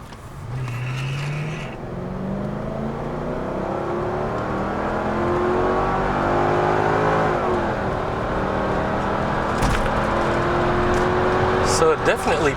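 Engine of a Mercedes-Benz C55 AMG wagon accelerating hard, rising through the revs with a loud, steady roar that builds over several seconds, accompanied by wind and road noise inside the car. A brief voice is heard at the start.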